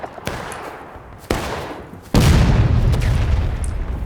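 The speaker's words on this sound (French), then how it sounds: "Il y a les canons aussi qui tirent." Cannon and musket fire at a 5th Ohio reenactment skirmish: three sharp, loud reports spaced about a second apart, the last a heavy boom that rolls on into a long, rumbling tail.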